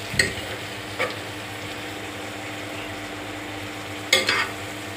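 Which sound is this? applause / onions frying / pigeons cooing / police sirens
onions frying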